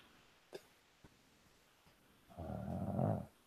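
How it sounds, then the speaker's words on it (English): Snoring from a sleeping person, one long rasping breath rising loud and close near the end, preceded by a few faint isolated clicks in an otherwise quiet room. "Yep, we definitely hear snoring."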